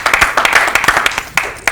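A studio audience on a comedy talk show claps for a singer in a quick burst of sharp, distinct hand claps, fairly close and loud, with no talking.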